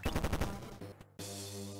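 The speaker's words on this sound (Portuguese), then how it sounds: "isso são uns tiros realmente lentos" Slow gunfire from the Kirby Squeak Squad video game: a burst of repeated shots in a steady rhythm, then a short drop before a sustained tone returns, loud and close with no talking.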